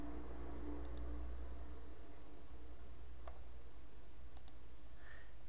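A computer mouse clicks a few times, sparse and faint, with long quiet gaps between clicks in a still room.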